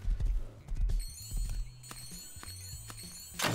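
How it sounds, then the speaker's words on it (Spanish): In the video game Rust, a horse approaches with uneven hoof clip-clops thudding close and fairly loud, a faint whinny-like tone between them and a burst of noise at the end. "Viene un caballo."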